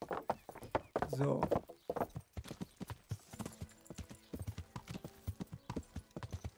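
A donkey's hooves clip-clop in a quick, steady rhythm at close range in Kingdom Come, with a voice speaking briefly at the start and a faint tone humming behind.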